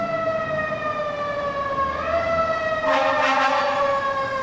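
A vehicle siren wails steadily with a stacked, tonal whine that bends upward partway through, then picks up a rapid warbling pulse toward the end, fairly close and with no voices over it.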